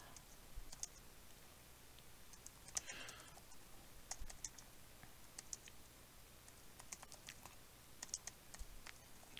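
Typing on a computer keyboard, quiet irregular clicks of keystrokes in quick bursts, close and faint, with no talking.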